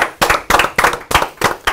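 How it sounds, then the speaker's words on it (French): An audience applauds in a series of loud bursts of close clapping, each swelling and fading with brief gaps between, roughly five waves over a short stretch. "Allez, applaudissements."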